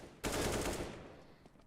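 A brief burst of pistol gunfire in a Counter-Strike match, a short rapid cluster of shots that fades into a lingering echo.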